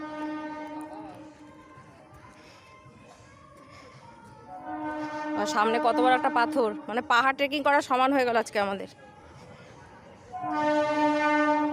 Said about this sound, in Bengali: উত্তরপাড়া থেকে হিন্দমাটর ঢুকছে ট্রেন